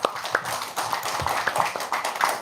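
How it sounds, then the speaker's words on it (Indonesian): An audience at an Indonesian gathering claps along, a steady patter of hand claps with a few sharper slaps, moderately loud and close, without speech over it. "Tepuk tangan dulu dong."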